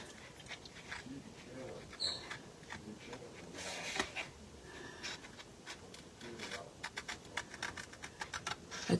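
Cardstock being cut along a score line for a pleated greeting card: quiet, uneven scraping and rubbing strokes with small clicks, close by, with no talking.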